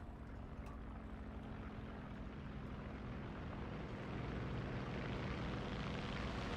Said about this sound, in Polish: Obawiam się, że zaraz zginę od samolotu. To jest na szczęście nasz.